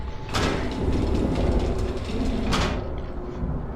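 A toy train runs along its tracks in The Seventh Guest puzzle game, making a steady, fairly loud rumbling clatter for several seconds with two brief sharper clacks, and no talking.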